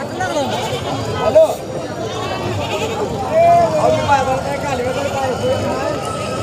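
Goats and sheep bleat at a livestock market in Sangola, several calls rising over a dense crowd of people talking, with the animals both near and further off.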